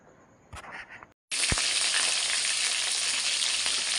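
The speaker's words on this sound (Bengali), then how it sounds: "এবারে তোমার মাংসের আলুটাকে ভাজছি মাংস আলুটা লাল লাল করে ভেজে নিই" Steady loud sizzling of potatoes and chicken frying in hot oil until browned, starting after a brief pause and a few clinks, continuous and close.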